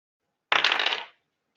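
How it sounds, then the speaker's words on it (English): Dice rolled during a tabletop roleplaying game, one quick rattling clatter across a surface lasting about half a second, close and fairly loud, with silence around it. "The GM is ominously rolling dice and making vague noises"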